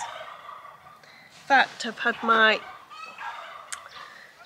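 Farmyard fowl on a two-acre farm in the Algarve give a burst of loud gobbling calls close by, amid quieter bird chirps and a brief spoken voice.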